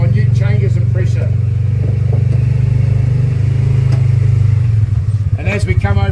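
A side-by-side UTV engine climbs a hill in low range, with a steady loud low drone under light throttle and faint clatter, easing off toward the end.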